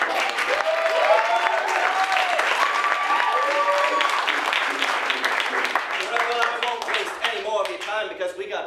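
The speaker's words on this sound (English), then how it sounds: "A big round of applause." A live improv show audience gives a loud, sustained round of applause, with dense clapping throughout and voices cheering and calling out over it.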